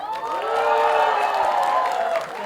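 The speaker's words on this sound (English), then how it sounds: "तालियां" An audience at a film trailer launch for De De Pyaar De 2 breaks into dense, loud applause with cheering and shouts mixed in, sustained throughout before easing slightly at the end.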